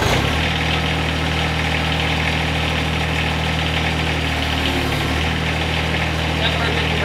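A John Deere tractor fitted with a 54-inch quick-hitch snow blower runs at a steady idle throughout, its engine a continuous low hum with a brief dip in tone near the end.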